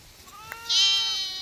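Goat at a livestock market giving a single loud, wavering bleat that starts high and strained and fades out, close by, with a faint shorter call just before it.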